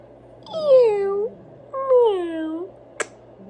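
A pet cat gives two drawn-out, close meows in a quiet room, followed by a brief sharp click.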